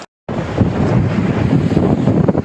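Strong wind buffeting a sailing boat at sea, a loud, steady roar of gusts over the microphone with water noise underneath, after a brief silent moment at the start.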